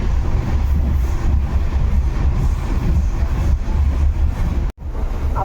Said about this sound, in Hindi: अपनी ट्रेन गलगलिया पार की है अभी